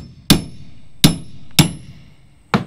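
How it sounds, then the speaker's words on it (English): Four sharp, loud wooden knocks ring out at uneven intervals as a tool is worked to pry wooden trim off a window frame on a chicken house build, close by and with no voices. "So the problem that I'm having is when I try to pry this off, it pushes the inside in really bad."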